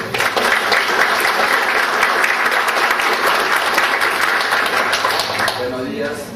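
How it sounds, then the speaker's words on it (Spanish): Full audience applause at a university law faculty seminar in Spain or Latin America, loud and sustained for several seconds before tapering slightly at the end, with faint voices underneath. "Un aplauso, por favor."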